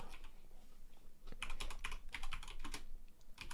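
Fingers type rapidly on a computer keyboard, a dense clatter of key presses that comes in quick bursts with short pauses between them and stays close and clear, with no voices.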